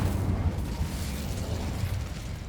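Incendio fire spell cast in the Hogwarts Legacy video game on PC, a steady roaring burst of flame lasting a couple of seconds, dense and loud without letting up.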